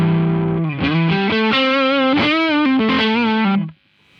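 An electric guitar runs through a Mozztronics TD-1 Tube Driver pedal with the gain turned down and the amp volume cranked. It plays loud, sustained chords and bends with a crunchy overdrive, alone, then cuts off.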